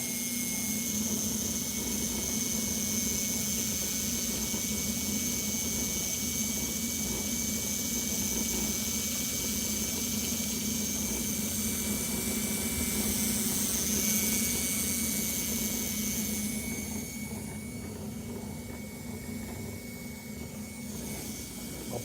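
A magnetic wheel spins at high speed, giving off a loud, steady whirring drone with a sustained high tone that runs unbroken before easing slightly near the end.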